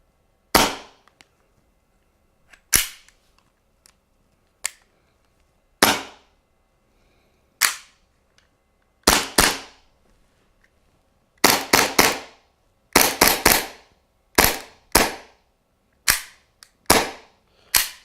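Hi-Capa airsoft gas pistol firing, sharp snapping shots with crisp slide clacks, single and in quick doubles and triples, loud and close with silent gaps between.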